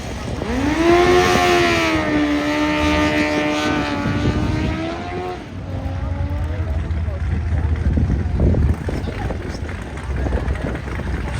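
A Honda CBR 1000 and a Yamaha 1000 motorcycle roar off the line in a drag race, a loud rising engine wail climbing in pitch, then a second lower drone fading while a loud announcer talks over it.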